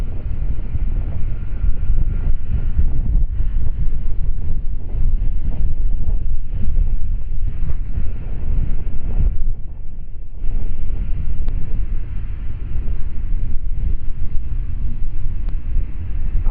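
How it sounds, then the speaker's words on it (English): Strong wind blows across an outdoor disc golf course, producing continuous loud low rumbling buffeting against the microphone for the whole stretch, with only a brief lull midway and no voices. "Got some wind today, going my left to my right"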